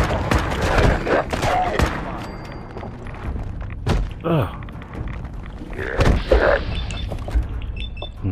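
Gunfire in the video game Fallout 4: several sharp bursts of shots scattered through the clip, mixed with thuds and game effects, with a player talking over much of it.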